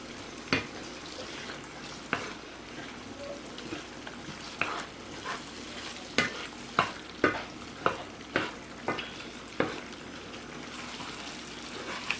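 Shrimp scampi is stirred in a pan with a spoon, giving a steady run of roughly a dozen crisp clicks and scrapes against the metal. Each one stands out close and distinct over a faint, constant sizzle.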